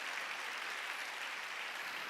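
A church congregation claps during a sermon. The applause is a brief, even patter of many hands, faint and distant.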